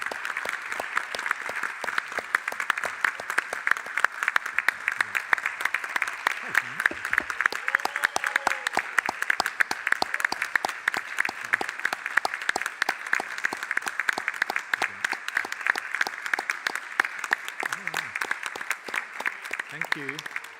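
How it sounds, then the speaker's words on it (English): An audience in the main auditorium of a Lisbon integrated-care conference gives a long round of applause, with dense, steady clapping that continues for about twenty seconds. "A big round of applause."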